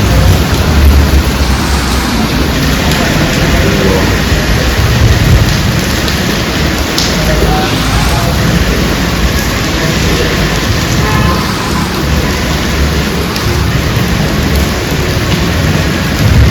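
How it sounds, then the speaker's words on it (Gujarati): Heavy rain pours steadily and loudly, with low rumbles of thunder rolling beneath the constant hiss. "જોરદાર વરસાદ ચાલુ થઈ ગયો"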